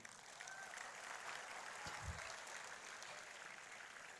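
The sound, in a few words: applause for the minister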